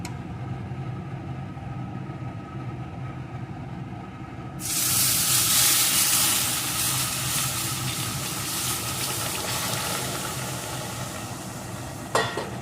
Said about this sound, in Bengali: এখন আমি এর ভিতরে যে দুধটা ঘন করে জাল করে রেখেছিলাম সেই দুধটাকে ঢেলে দেব